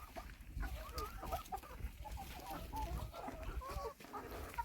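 Hens, not yet laying, clucking and chattering softly in a group, overlapping quiet calls over low background rumble, fairly faint and without speech.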